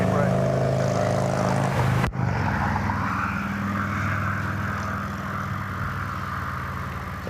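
A Frontier airliner passes near Cleveland Hopkins airport, its engines a steady broad roar heard from a distance that slowly fades, with a voice talking over it and a brief knock partway through.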